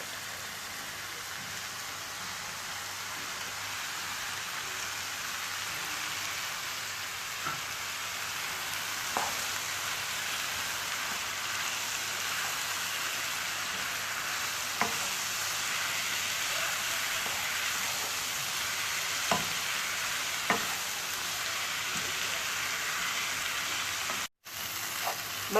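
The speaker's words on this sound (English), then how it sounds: "So I'll be putting my shrimp." Shrimp frying in a pan for coconut vegetable fried rice, giving a steady, even hiss of sizzling oil with a few soft clicks and taps, alone and at moderate level.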